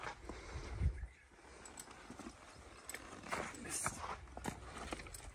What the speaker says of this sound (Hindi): घोड़ी जो है डांस करती है शादियों पे, ये देखिए